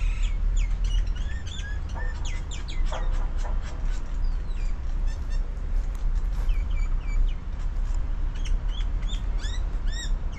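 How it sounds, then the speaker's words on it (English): Birds chirp and tweet outdoors in the Hinnom Valley in quick, scattered bursts of short calls over a steady low background rumble. Several birds call close by throughout, and there is no speech. "the birds are singing."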